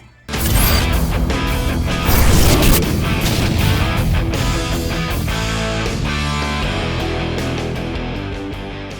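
Loud, dense electric guitar rock plays continuously in the background of a music studio, distorted and full, with heavy crashing accents and no voices.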